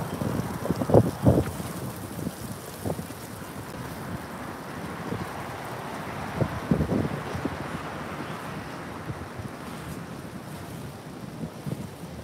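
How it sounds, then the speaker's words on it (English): Gusty wind buffets the microphone outdoors, a rumbling roar that swells and drops with a few stronger blasts. "is a little windy out here"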